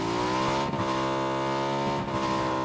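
A car in PUBG accelerates with a steady, loud buzzing engine drone rich in harmonics, climbing slightly in pitch with two brief dips like gear shifts.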